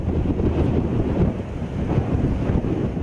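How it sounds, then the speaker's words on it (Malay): Sea waves off Sabah's east coast mix with a boat engine's low rumble, heavy wind noise buffeting the microphone throughout and no voices. "Perairan Pantai Timur Sabah seperti selalu hanya bunyi desir laut serta enjin bot yang memecah keheningan"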